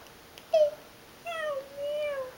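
Person imitating a cat's meow, giving a short meow followed by a longer, drawn-out one, close and clear against a quiet background.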